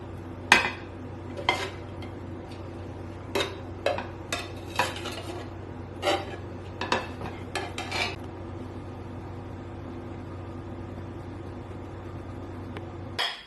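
Utensils clink and scrape against plates and a pan as orzo pasta and vegetable stir fry is served onto two plates, with a steady run of close, irregular knocks over a faint background sizzle.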